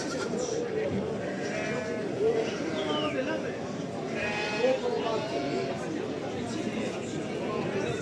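Lambs bleating at a sheep market in Ganja, several overlapping bleats near and far over a busy crowd, with people chattering throughout.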